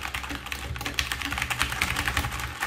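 Rapid clicking keystrokes from a SteelSeries Apex 7 mechanical gaming keyboard, dense and irregular, fairly close and steady throughout with no voices.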